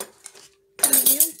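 Metal forks clink and jangle together in a short bright burst of rattling, close by, after a brief quiet moment.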